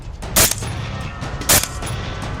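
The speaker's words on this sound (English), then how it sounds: "Gunfire erupts, echoing through the still night." Two sharp gunshots ring out about a second apart during a nighttime wild boar hunt on Australian farmland, each a loud broadband crack with a short echo over steady outdoor background noise.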